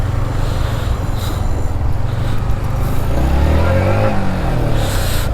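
Yamaha MT15 motorcycle weaving through heavy city traffic, its engine droning and revving close by over a dense roar of surrounding vehicles, with a rising engine tone toward the end.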